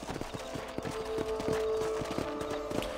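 Horse hooves clip-clop at a steady riding gait in the Wild West video game Red Dead Redemption, with an even, repeated beat over soft game ambience and a faint background tone.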